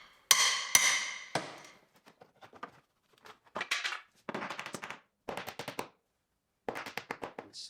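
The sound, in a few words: removing a rusty wall panel, hammering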